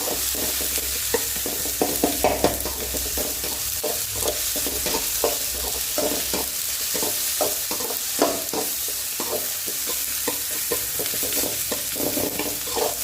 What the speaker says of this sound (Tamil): இப்போ இது நல்லா வதங்கட்டும்